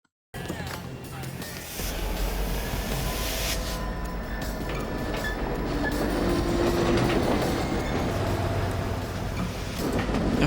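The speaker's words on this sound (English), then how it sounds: "There's no way you're catching that train." A train passes close on the rails in a TV drama scene, a loud continuous rumble and rattle with clickety-clack that builds steadily, with no speech.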